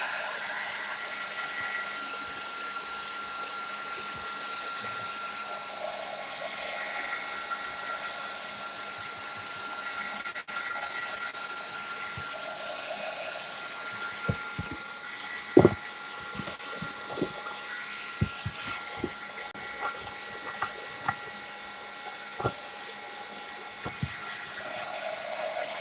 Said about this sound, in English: I'm going to use the heat gun on it. So it's going to be loud for a minute.